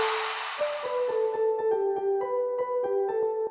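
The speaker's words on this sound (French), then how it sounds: "j'ai mis juste de la reverb, un peu de stéréo et j'ai baissé un peu le son." Plucked, guitar-like keys from a Pandora sample play a steady run of short melodic notes, roughly a dozen in even rhythm, softened by added reverb and stereo width at a lowered level, with no other sound.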